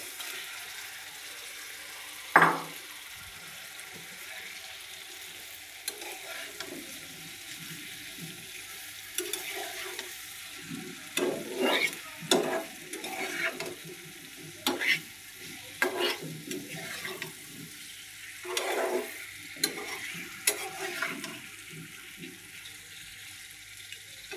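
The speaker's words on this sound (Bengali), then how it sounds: "এখন আমি মাছগুলো দিয়ে দেবো।" Fish sizzles as it fries in spice paste in a pan, a steady soft crackle broken by scattered stirring clatters and scrapes, close and with no voices.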